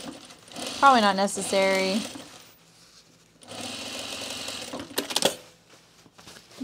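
A sewing machine stitches pants fabric in short bursts, close up, between stretches of someone talking; the machine's whir sits under and around her voice.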